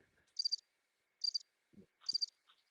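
Cricket chirps played as a comedy sound effect after a radio show joke: three short, bright, evenly spaced chirp bursts, with a couple of faint low thumps between them and no talking.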